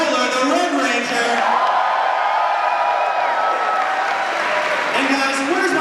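A large audience at a Power Rangers fan convention panel claps and cheers loudly and continuously, with whoops and shouting rising over the steady wash of applause.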